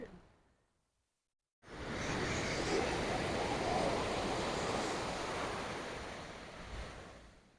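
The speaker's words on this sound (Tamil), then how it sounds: "இங்கே பாருங்க, இது கல்பாக்கம் பீச்." Ocean waves on Kalpakkam beach: after a short quiet moment, a steady, loud roar of surf breaks in and continues, with wind buffeting the microphone.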